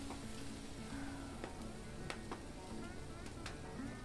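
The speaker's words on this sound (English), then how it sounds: "you hear that sizzle?" Steady crackling sizzle of tri-tip on a hot Santa Maria grill, close by, with a few sharp pops and light scraping.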